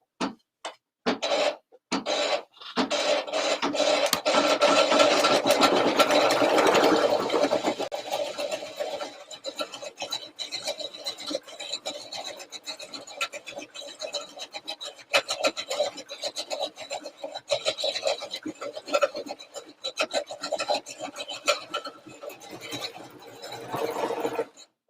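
An embroidery machine stitches bunny teeth in white thread, a fast, steady mechanical rattle of needle strikes that runs continuously after a few short starts, close and alone.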